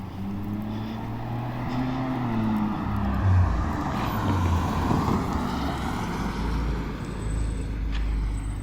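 A Dodge Avenger with a newly fitted custom exhaust drones steadily at low pitch, its engine note swelling slightly mid-clip and holding a constant, moderately loud rumble throughout, with no voices.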